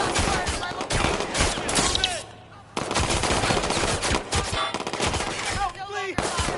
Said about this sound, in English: Got shots fired in my location!